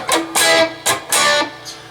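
Electric guitar riff from a song lesson, played alone with bright picked chords alternating with short percussive string mutes in a steady down-up rhythm, close and fairly loud.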